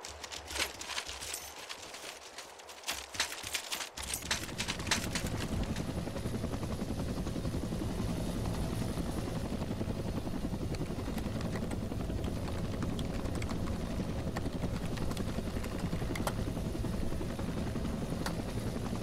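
AH-1W Cobra attack helicopter in Arma 2, its steady rotor and turbine drone building up after a few seconds of quieter sound and then holding loud and continuous throughout.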